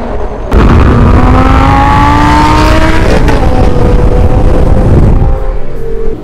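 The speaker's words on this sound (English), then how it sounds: "I hope you can hear me, despite the engine sound, which is super loud" A 2011 Lamborghini Gallardo LP550-2 engine roars loud and close throughout, rising in pitch through several gears as the car accelerates, then easing off near the end.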